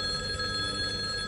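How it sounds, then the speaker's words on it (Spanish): A telephone rings with a steady electronic trill, bright and sustained throughout the short moment, with no voices. "escuché que el teléfono sonaba"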